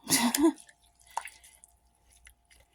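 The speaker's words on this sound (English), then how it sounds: "So I'm just going to wring these out the best I can." Wet crocheted granny squares are wrung out by hand, with a brief burst of squishing and dripping water up close, then scattered soft drips and faint squelches trailing off in a quiet room.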